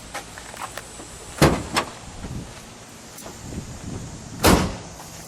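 A car hood on a 1979 Buick LeSabre Sport Coupe is opened with a couple of sharp metallic clunks and latch sounds, standing alone over a faint outdoor background hiss.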